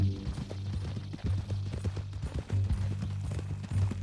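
Horse hooves clip-clop in Red Dead Redemption 2, a steady run of close, hollow thuds in uneven rhythm under low ambient tones.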